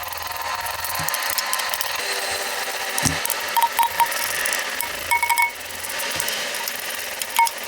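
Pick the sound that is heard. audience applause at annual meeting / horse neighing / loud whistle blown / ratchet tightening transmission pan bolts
ratchet tightening transmission pan bolts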